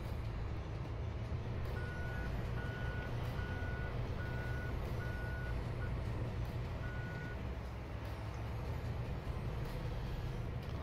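In a farming video game, a truck backs up with evenly spaced reversing beeps over a continuous low engine rumble, and the beeping stops partway through while the engine keeps droning.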